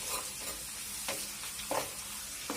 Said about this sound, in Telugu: ఆనియన్స్ కొద్దిగా ఫ్రై అయిన తర్వాత దీనిలోకి జింజర్ గార్లిక్ పేస్ట్ ని యాడ్ చేసుకోండి.